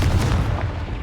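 Booming blast from the Confringo blasting spell in the Hogwarts Legacy video game, a dense low rumble sustained through the whole second at steady loudness.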